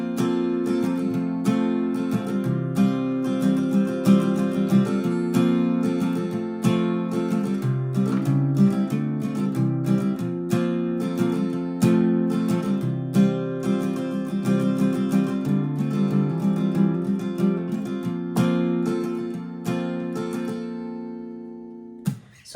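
Guitar plays the passage leading into the final verse of a song, a steady strummed chord progression with a bright ringing tone, close and alone for about twenty seconds before ending with a short knock.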